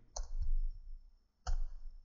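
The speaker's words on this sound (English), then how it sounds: "clicking the mouse on the cells instead of typing in the cell name" Two sharp computer mouse clicks about a second and a quarter apart while selecting spreadsheet cells, close and crisp over a soft low rumble.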